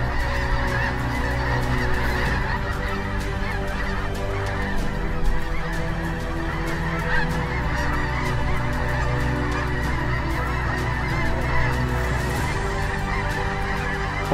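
A flock of snow geese honks continuously during a goose hunt, the dense, overlapping calls carrying steadily without pause and no voices heard.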